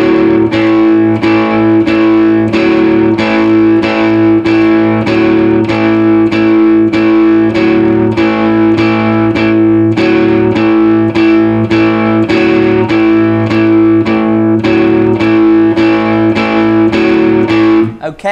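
Distorted electric guitar plays four bars of a rock 'n' roll riff, a steady, driving pattern of evenly picked chords repeating for about eighteen seconds, loud and close, with no talking.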